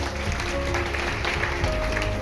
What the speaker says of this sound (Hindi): एक बार जोरदार ताली हो जाए इनके लिए